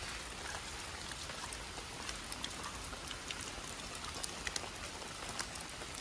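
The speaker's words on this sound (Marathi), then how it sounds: "तर पाऊस आलाय आणि आता आम्ही रिटर्न चाललोय घरी।" Steady monsoon rain falls on a farm in the Konkan countryside, a dense, even hiss with scattered drop patters close by, continuous and without talk.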